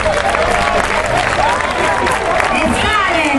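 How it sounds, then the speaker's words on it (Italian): Dense, loud crowd applause at a May Day 2015 rally in Taranto protesting pollution and job insecurity, sustained throughout with voices and cheers mixed into the clapping. "Facciamogli un applauso,"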